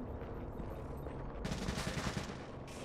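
Gunfire in Tom Clancy's The Division: a low rumbling background gives way to a dense burst of rapid shots lasting over a second, then a short renewed burst, moderately loud and distant-sounding, with no talking.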